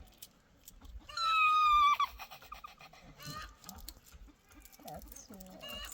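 Chickens cluck and squawk close by in an outdoor rural setting while a traditional shade is built, with a loud stretched call early on followed by scattered clucks, amid background chatter and movement.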